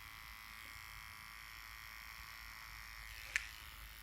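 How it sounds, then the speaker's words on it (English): Electric hair clippers trimming around the ear during a men's short back and sides cut, giving a faint steady buzz with one brief sharp click near the end. "you run the clippers along the comb"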